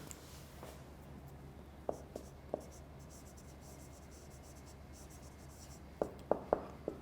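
A pen or chalk strikes and scratches on a board during an online English lecture, giving a few quiet, sharp taps and short strokes in two clusters over a faint steady background, with no talk.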